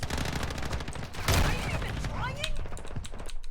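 FSS Hurricane SMG fire in a video game comes in rapid, fast-rhythm bursts with scattered impacts and effects, moderately loud, while someone talks over it.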